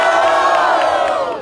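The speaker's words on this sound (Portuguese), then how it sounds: "curtiu as rimas do Sodré, levanta a mão e faz barulho" A dense crowd at a rap battle cheers and yells together, a loud continuous roar of many voices held briefly and then tapering off.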